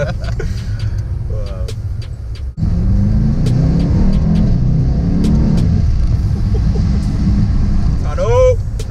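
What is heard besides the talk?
Mercedes-AMG E63 S engine during gear downshifts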